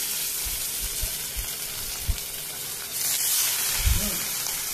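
Fish pieces go into a hot wok for a sour fish curry and sizzle steadily, the hiss swelling louder partway through, with a few soft knocks of the pan.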